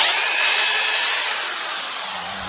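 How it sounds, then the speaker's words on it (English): A loud, continuous high-pitched hammer drill whine grinds steadily into rocky ground while digging a fence post hole, then gradually fades slightly as it winds down. "I've been using my hammer drill here, just dipping her in"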